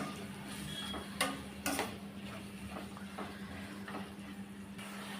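Soy and tomato sauce being stirred into vegetables in a pan, with faint scraping and a few sharp clinks of a utensil against the pan over a steady background hum.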